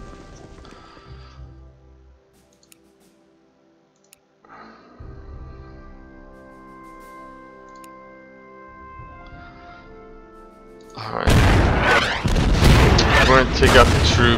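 An artillery strike in the strategy game Order of Battle Pacific lands as a single deep boom near the end of the stretch. The quieter game sounds before it include hoof-like clip-clops.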